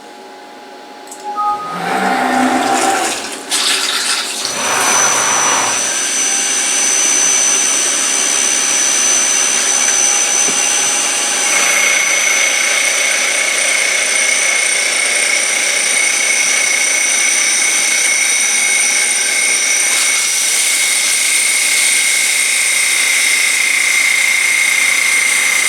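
CNC facing operation run with flood coolant: a steady, loud whirring spray and spindle hiss holds for the whole stretch, with a high whine tone and brief clatter near the start.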